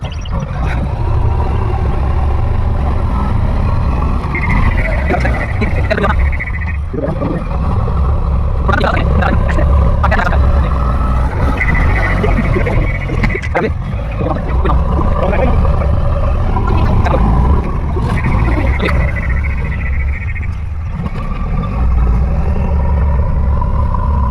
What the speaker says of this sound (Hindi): देखिए कैसे जल्दी जल्दी जेसीबी मिट्टी को नीचे से उखाड़कर ऊपर फेंकती है